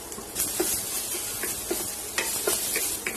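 Chopped onion, garlic and ginger sauté in hot oil, a continuous crackling sizzle broken by short spatters and stirring scrapes, close and moderately loud.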